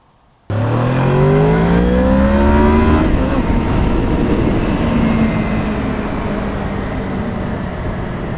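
A 2007 Honda VFR 800 motorcycle starts up abruptly and accelerates hard, engine pitch rising through gears, then settles into a steady loud cruising drone close by.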